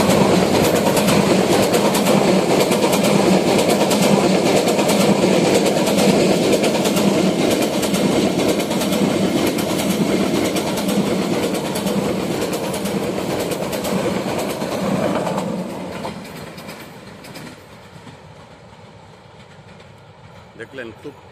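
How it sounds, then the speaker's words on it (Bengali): Cox's Bazar Express train rushing past at high speed, a loud sustained roar and clatter of wagons close by for about fifteen seconds before fading quickly into the distance. "প্রায় ৮০-৯০ কিলোমিটার বেগে খুব দ্রুত স্পিডে কক্সবাজার এক্সপ্রেস ট্রেনটি ছুটে আসতেছে।"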